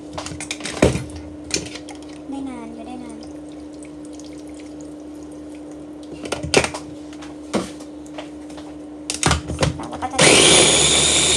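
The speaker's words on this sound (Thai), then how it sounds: "เครื่องปั่นนินจาดีมากเลยทุกคนอยากบอกว่าเครื่องปั่นนินจานี่ดีมากเลย" A Ninja blender with water added starts up near the end with a loud, steady whirring roar, after a stretch of scattered clicks, taps and clatter from handling the machine.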